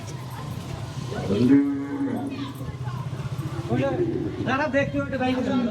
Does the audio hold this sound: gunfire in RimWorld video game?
no